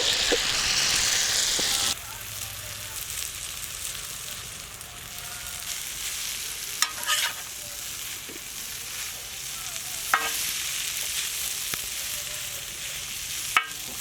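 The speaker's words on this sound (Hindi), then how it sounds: "नेक्स्ट नूडल्स को भी तवा पे फ्राई करेंगे।" Mutton noodles stir-fry on a hot griddle, teppan style, with a continuous loud sizzle, a louder burst at the start and several sharp clacks of a utensil against the metal, heard close with no talking.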